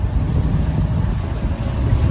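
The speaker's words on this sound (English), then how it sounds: "one of my favorite things about this is how quiet this engine is." A Mahindra Roxor side-by-side idles with a low, steady engine drone, a continuous rumble that stays even throughout, mixed with wind noise over the microphone.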